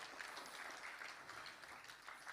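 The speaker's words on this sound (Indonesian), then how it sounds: "Tepuk tangan buat Tuhan Yesus." Applause from a church congregation during a sermon on spiritual awakening, a steady spread of soft, fairly faint clapping that lasts throughout with no voices over it.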